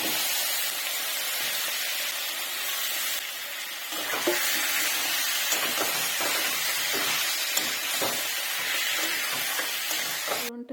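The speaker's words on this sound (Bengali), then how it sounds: "এরপরে কড়াইতে ফোড়ন দিয়ে দেবো।" Dry red chillies, garam masala and cumin seeds hit hot oil in a wok for a spicy chicken curry, giving a loud, steady sizzling hiss close up that lasts throughout, with faint stirring scrapes in the second half.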